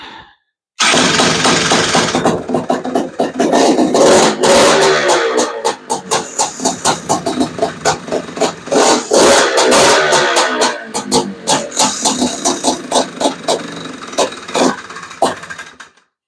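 A Honda Odyssey FL350 fitted with a Lectron carburetor starts up and runs loud and close, its rough, over-rich engine pulsing unevenly for over fifteen seconds before cutting off.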